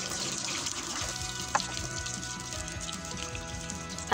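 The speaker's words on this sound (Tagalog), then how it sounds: "lalagyan ko na rin po ng tubig" Water pouring into a pot of chicken caldereta as it cooks, a steady running splash at close range with a few small clinks near the middle, heard alone without talk.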